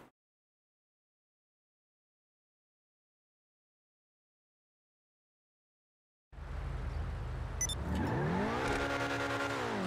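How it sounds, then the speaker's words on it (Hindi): A car engine in GTA 5 bursts in after several seconds of silence, revving hard and loud, its pitch climbing and dipping through gear changes, with a brief tire squeal. "गाड़ी का आवाज क्या आ रहा है भाई?"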